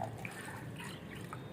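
Water poured from a jug into a container while preparing a homemade plant fertilizer, a steady faint trickling and splashing that runs throughout.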